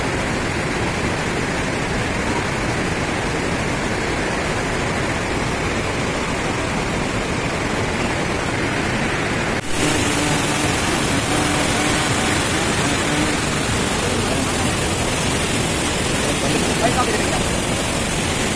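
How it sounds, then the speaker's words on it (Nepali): Namaste waterfall in east Nepal roars as a steady, loud wash of rushing water that fills the whole scene without a break, with a brief shift in tone partway through. "अहिले चाहिँ म नमस्ते झरनामा छु है गाइस नमस्ते झरनामा छु है हेर कस्तो पानी आएर चाहिँ"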